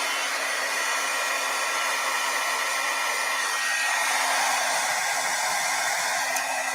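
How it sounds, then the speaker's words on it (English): Heat tool warming up and blowing hot air to melt embossing powder on vellum for cardmaking, a steady, loud whooshing motor hum heard up close throughout, with no talking. "So I'm going to warm up my heat tool first,"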